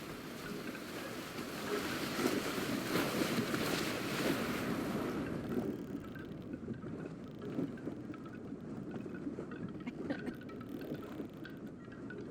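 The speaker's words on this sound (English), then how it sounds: "I can't hear you over the sound of the water." Loud rushing water and wind against a small sailing boat that is taking on water, a dense continuous wash that eases slightly partway through and carries on with scattered splashes.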